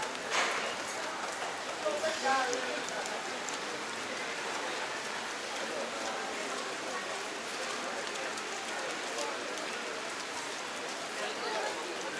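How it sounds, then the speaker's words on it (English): Steady rain falls on a city street near Frankfurt's central train station, a continuous broadband hiss of drops on pavement lasting throughout, with a few brief louder spatters early on and faint background noise. "I'm getting rained on."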